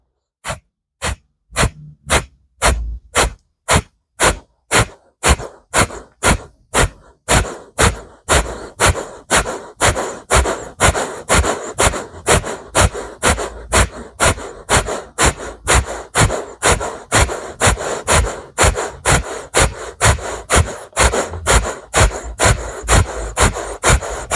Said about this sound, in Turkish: Burada ateş nefesine başlıyorum.